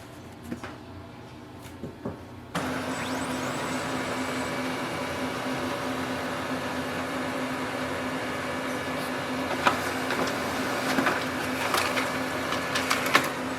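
Brother HL-L2460DW laser printer starting up and printing a page: a sudden onset of steady mechanical whirring with a sustained hum, with clicks and rattles from paper feeding toward the end.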